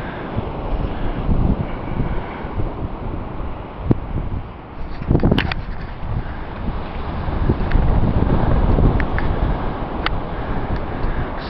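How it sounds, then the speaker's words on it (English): Cold wind blows hard across the microphone at the Virginia Beach oceanfront, a loud, constant rumbling roar with gusts swelling and easing, and faint surf beneath. "it is cold and windy out here"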